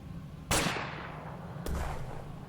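Two separate gunshots from a VR combat shooter game, Combat Troops VR, fired at a distant enemy: a sharp loud crack with a decaying tail, then a second, softer shot about a second later, over a low steady hum.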